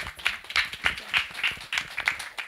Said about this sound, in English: let's give a round of applause to welcome her up